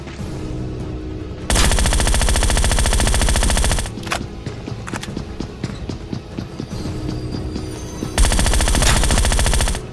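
Heavy automatic gunfire in Scarfall 2.0 during a solo-versus-squad match: two long, dense, loud bursts of rapid fire open and close the stretch, with scattered single shots and clatter between them.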